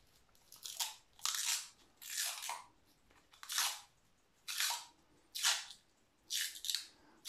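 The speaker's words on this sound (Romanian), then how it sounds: "Acum se strânge foarte repede cu bandă" Tape is stretched and wrapped tightly around a cleft graft on a Muscat Hamburg grapevine. About seven quiet, crackly bursts come in a fairly regular rhythm, with short pauses between pulls and no speech.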